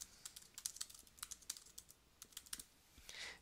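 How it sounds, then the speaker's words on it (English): Computer keyboard keys clatter in quick, irregular bursts while a script is typed up, a close, crisp patter with short pauses and a louder burst at the end. "She's the one who's been typing all this time."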